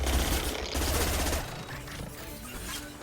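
Rapid bursts of gunfire from a firefight in Mass Effect 2 Legendary Edition, loud and dense at first, then easing into lighter scattered shots and mechanical clatter.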